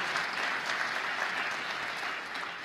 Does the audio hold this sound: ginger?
no